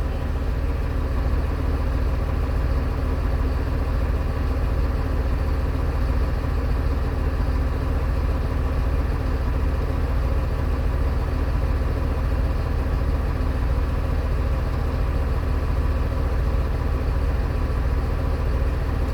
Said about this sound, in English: And this is happening while the bus is running.